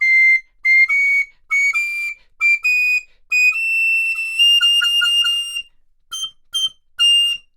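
A Moeck amaranth (purpleheart) wooden recorder plays sweet, pure high notes in a series of short phrases and one longer held run, clear and close with brief gaps between.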